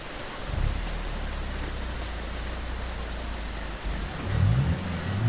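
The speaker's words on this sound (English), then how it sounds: "Just need this darn rain to go away." Steady, dense rain pours down throughout in BeamNG.drive during a career mode drive, with a low engine rumble underneath and a louder surge of low noise near the end.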